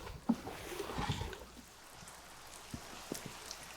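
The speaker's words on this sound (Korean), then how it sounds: "예상보다 빨리 시작된 비." Rain beginning to fall outdoors beside a building exterior being painted, sparse scattered droplets tapping on surfaces with a soft hiss underneath, faint and fairly distant, without talk.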